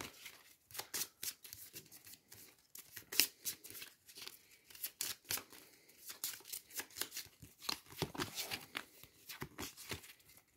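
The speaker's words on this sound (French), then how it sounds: "je vais lui prendre une carte." Playing cards are shuffled, drawn and slid across a table during a solo session of the board game Astro Knights, giving a steady stream of crisp paper flicks and snaps, fairly quiet and close, with no talk over them.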